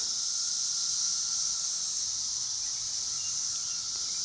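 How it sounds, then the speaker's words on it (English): Cicadas drone outdoors on a cloudy June day, a continuous high-pitched buzzing hiss that stays steady and fairly loud, with faint background rumble beneath and no talk. "At least the cicadas seem to like it."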